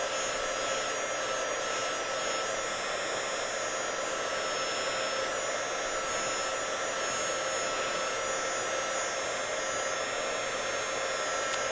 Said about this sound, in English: Do move the heat gun when you're using a heat gun.